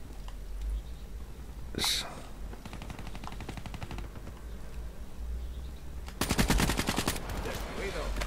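Rapid bursts of video game gunfire crackle in two clusters, a sharp shot near the start and a louder sustained volley toward the end, over faint background ambience.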